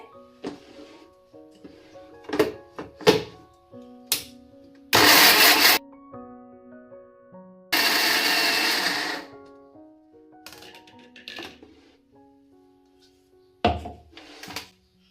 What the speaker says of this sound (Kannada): ಸ್ವಲ್ಪ ತರಿ ತರಿಯಾಗಿ ರುಬ್ಕೊಳ್ತಾ ಇದ್ದೀನಿ